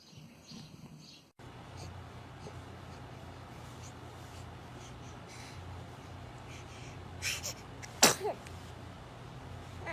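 A baby sneezes near the end with a quick double burst, the second one sharp and loud, over steady soft room noise with a few small breathy sounds before it.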